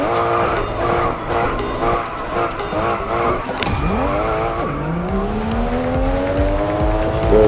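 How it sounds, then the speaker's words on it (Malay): An Aston Martin races in the mobile game Racing Master, its engine loud and up close, revving through quick rising gear changes, then a sharp shift and a long climbing wail of acceleration. "Aku pakai kereta Aston Martin aku yang biasa-biasa ni."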